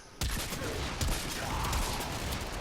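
Rapid, dense blasts from the Zarr cannon in the video game Warframe roar continuously at high level, a thick wall of gunfire and explosions with no gaps.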